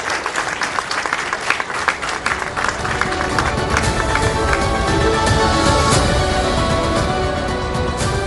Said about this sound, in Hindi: जोरदार तालियों के साथ अभिनंदन करिए जेपी नड्डा जी का।